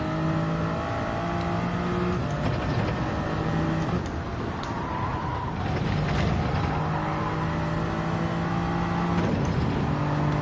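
Toyota Supra race car in Gran Turismo 7, engine droning steadily with gear changes and pitch shifts as it laps the track, loud and close throughout.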